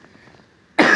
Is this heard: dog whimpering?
no